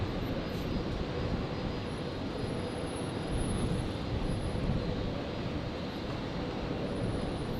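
A Rex airliner departs Brisbane Airport bound for Sydney, its engines a steady, broad roar that holds at an even level throughout, heard from a fair distance with no voices over it.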